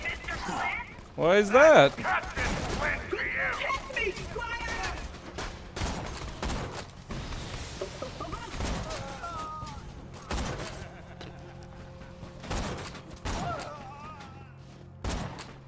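A sniper rifle fires in The Hunt video game, giving a long series of sharp, cracking shots at irregular intervals while people talk over the gunfire.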